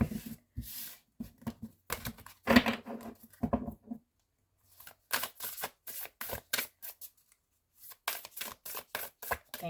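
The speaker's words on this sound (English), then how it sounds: "Really shuffling cards today for some reason." Tarot cards being shuffled by hand, with bursts of quick riffling flicks and papery slaps separated by short pauses, close and moderately soft.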